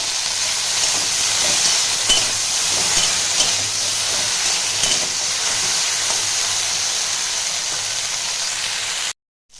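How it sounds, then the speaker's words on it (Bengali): Okra frying in oil with a little turmeric sends up a loud, continuous, bright sizzling hiss close to the pan that holds steady for about nine seconds before cutting off abruptly. "ভেন্ডিটা আমি এবার একটু ভালো করে ভেজে নেব।"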